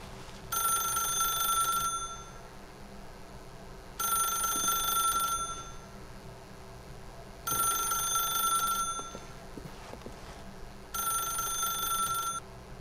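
A telephone in The Stanley Parable video game rings in four evenly spaced bursts, each about a second and a half long, loud and clear over a low ambient hum.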